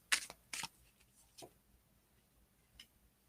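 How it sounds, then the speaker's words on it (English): A Nahuali Animal Oracle card deck is shuffled in a few quick riffling bursts close by, followed by softer taps and one last brief flutter of cards in a quiet room. "We'll shuffle, and this is my Nahuali Animal Oracle deck."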